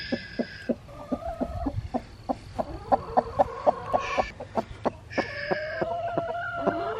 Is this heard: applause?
no